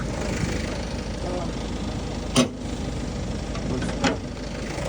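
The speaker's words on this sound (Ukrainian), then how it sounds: "Ось такий двигун, гарненько попрацює" A 2015 Ford Kuga 2.0 TDCi diesel with 243,000 km idles in a steady, rough rumble, broken by two brief sharp clicks.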